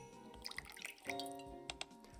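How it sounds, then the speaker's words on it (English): Rum poured from a bottle into a glass in the video game Goddess of Victory: Nikke, a quiet, close trickle with small drips and liquid splashes over a soft musical background. "Mast lifts up a bottle of rum and begins pouring it into the glass."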